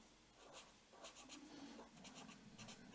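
Marker or chalk writing on a board during a lecture on measurement systems, with repeated short scratchy strokes in bursts, fairly quiet and close, with no talking.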